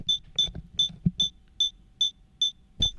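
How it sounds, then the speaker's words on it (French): A beeping film prop gives short, sharp electronic beeps in an even, quick rhythm, about three per second, with a few soft knocks and handling thumps beneath; the beeping pace is set by a turning dial. "Ça change la rythmique du bip bip."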